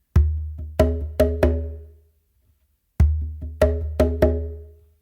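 A bingba hand drum plays a bomba/funk pattern of resonant, booming strikes with a short decaying ring. Two matching phrases of about five hits are separated by a pause, with no talking.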